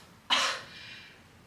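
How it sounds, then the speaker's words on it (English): One brief, soft, airy cough close to the microphone, its breath tailing off quickly into near silence during a breathing and core exercise. "every time you cough"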